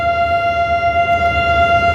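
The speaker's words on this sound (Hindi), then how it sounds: "सायरन बज गया इसका," The Karakoram Express sounds a loud, steady, high siren-like tone before departure in Pakistan, held without a break and slightly pulsing.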